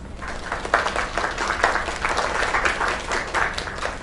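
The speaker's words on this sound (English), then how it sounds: "Another round of applause." An audience applauds after a singer's performance, a steady, moderate wash of many hands clapping over a few seconds, heard at a slight distance without voices.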